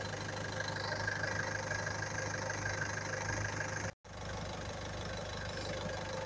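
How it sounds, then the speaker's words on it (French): A car engine with a suspected head gasket problem idles steadily, a low even rumble with a faint rhythmic knock, broken by a brief cut before resuming unchanged. "20 minutes que le moteur il tourne"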